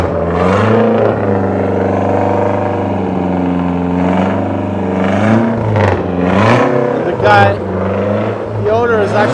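A rare Nissan GT-R50 supercar engine revs hard in repeated rising and falling sweeps, loud and close, with brief surges near the end.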